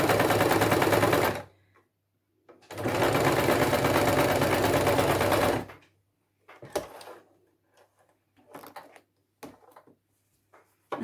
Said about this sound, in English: And you stitch along this edge.